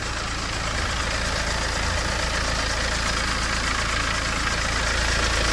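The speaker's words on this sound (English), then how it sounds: "And we have a diesel engine." A BMW 120d diesel engine, oil-leaking, idles steadily under an open hood, a constant low drone with a slight knocking texture and no voices.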